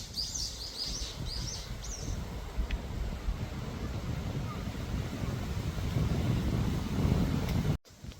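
Strong wind roars steadily across the microphone while cycling in Shikoku, Japan, a dense low rumble throughout, with faint bird chirps high above early on before a sudden cut near the end.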